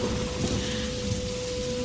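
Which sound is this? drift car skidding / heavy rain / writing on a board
heavy rain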